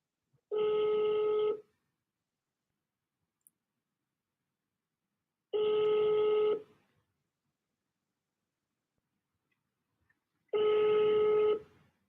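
Telephone ringback on a commercial real estate cold call: three long, identical electronic ring tones about five seconds apart, each lasting roughly a second, with silence between and no talking.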